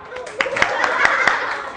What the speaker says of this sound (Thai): ทุกคนปรบมือให้กับกลุ่มไอสไตล์ครับ